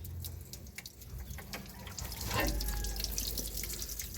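Coolant water drains from the radiator of a Toyota Hilux 3.0 D4D 4x4, a close, steady pouring splash into a container that grows fuller and louder midway, with faint clinks around it.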